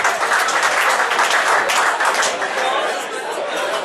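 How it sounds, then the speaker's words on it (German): Audience applause at an award ceremony for the winners of the women's long-distance class at a speed-climbing event: dense, sustained clapping from a crowd with chatter mixed in, loud throughout and easing slightly toward the end. "Einen Applaus für unsere Sieger in der Klasse Damen 2 Langstrecke"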